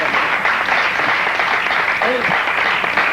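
A studio audience applauds a guest being celebrated for eight years in Paris, a loud, dense wash of clapping that carries on steadily, with a voice faintly audible underneath.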